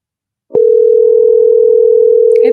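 A single steady electronic telephone tone sounds loudly after a short click, holding one unbroken pitch for about two seconds.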